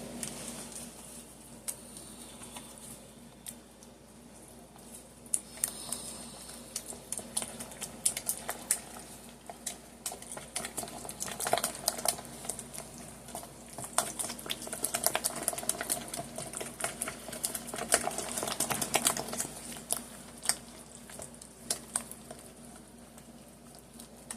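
Sweet potato pie filling being mixed by hand in a bowl, giving rapid, irregular light clicks and taps from the utensil, fairly close and moderately loud, continuing unevenly for the whole stretch without talk.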